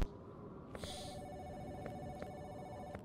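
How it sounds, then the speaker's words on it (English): A telephone ringing in a video game, a short electronic trill that repeats in quick pulses over a low, noisy background, fairly faint. "I gotta hear the phone ring every fucking time."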